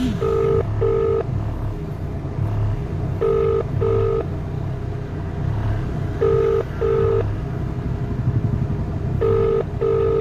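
A phone ringback tone repeats in paired beeps at regular intervals over a low background hum, with no talking.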